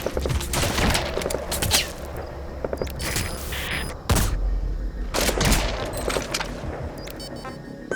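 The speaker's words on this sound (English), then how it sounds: "Begin cover fire." Cover gunfire in Metal Gear Solid V: sustained rapid shooting with heavy thumps and a few booming impacts, loud and close, continuing through the whole stretch with only brief lulls.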